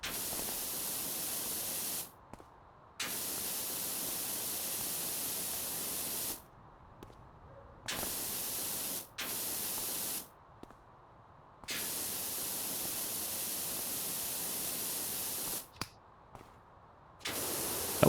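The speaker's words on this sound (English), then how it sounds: "That white spray is just straight up static." Pressure washer spray in the PowerWash Simulator video game: loud, steady hissing blasts like white noise, running in several long bursts broken by brief pauses.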